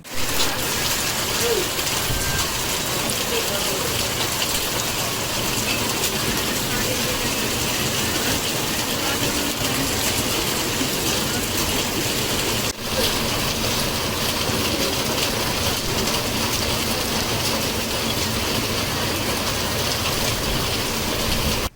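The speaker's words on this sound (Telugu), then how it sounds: "తుఫాన్ ప్రభావంతో సచ్చివేడు నియోజకవర్గంలో భారీ వర్షాలు కురుస్తున్న పరిస్థితి" Heavy rain driven by Cyclone Ditwah pours down in the Satyavedu constituency, a dense, loud and unbroken wash of falling water lasting throughout.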